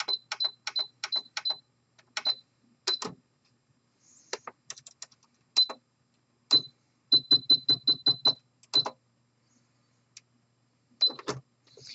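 A home sewing machine runs a triple stitch along a flat felled seam in fleece, giving quick clusters of sharp mechanical ticking in stop-start bursts with a faint high whine, close up and otherwise quiet.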